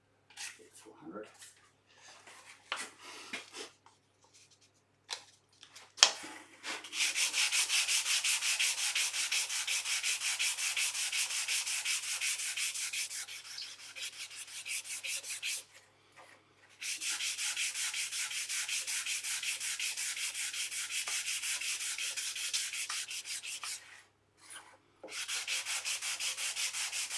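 Fine 400-grit sandpaper rubs back and forth on wood by hand in long steady strokes, a soft hissing scratch that pauses briefly a few times.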